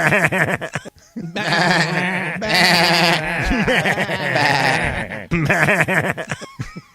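A goat bleats as a sound effect, with long wavering cries that rise and fall and come in several drawn-out bursts, loud and up close, with no talk over them.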